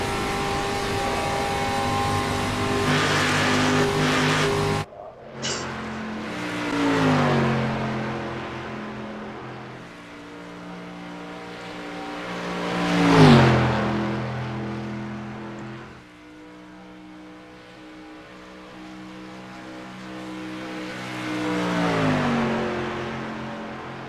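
Street stock race cars circling the Charlotte Oval in the iRacing simulator, with steady engine drone and shifting pitch as cars accelerate, a loud swelling pass midway, and engines rising again near the end.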